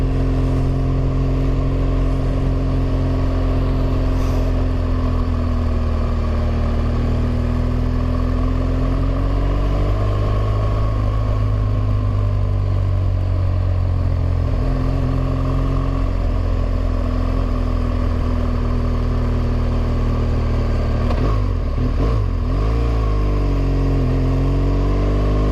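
A motorcycle engine labours steadily up a switchback on a small mountain track, a loud, close, continuous drone that shifts pitch as the throttle changes, with a rougher surge near the end.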